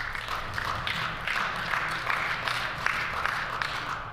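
Applause in a legislative assembly chamber, a dense, even wash of many hands clapping at a moderate distance, sustained without pause throughout.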